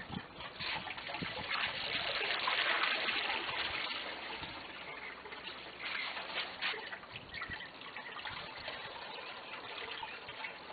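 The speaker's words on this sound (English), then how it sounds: "All one needs to do is just pour off a little bit of the water." Water is poured off from a 2-inch PVC gold trap used to separate gold from black sand, making a continuous splashing gush that swells and then settles into a trickle, with no voices.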